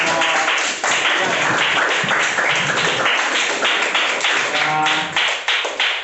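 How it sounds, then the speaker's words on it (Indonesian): A classroom group receives applause from students, a steady, dense clatter of many hands clapping at close range for about six seconds, with slight swells and dips and no talk over it. "kita beri aplaus dulu untuk kelompok"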